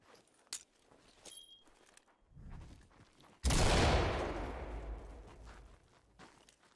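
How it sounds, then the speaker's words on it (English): A flashbang grenade detonates in the Ready or Not tactical shooter game: after quiet footsteps and small clicks, a sudden loud blast erupts and leaves a long ringing, hissing decay that fades slowly over several seconds. "I'm gonna flashbang this."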